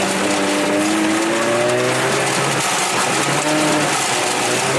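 A Toyota MR2 race car accelerates hard with a loud, close engine whose pitch climbs through the gears while the tires spin and squeal, a sustained roar that stays dense throughout.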